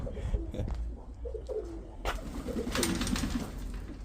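Soft, low pigeon coos repeat in short phrases against a steady background hum, with a few faint rustles and no talking.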